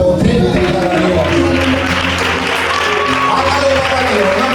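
Loud audience applause at a church service, a dense sustained wash of clapping filling the room, with voices and tones rising over it throughout.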